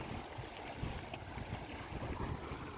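Steady, broadband wind rushes and buffets the microphone, with a continuous roar that could be mixed with distant water.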